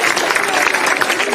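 An audience claps at a teacher's day program, a dense and loud burst of applause that runs steadily from start to finish without pause.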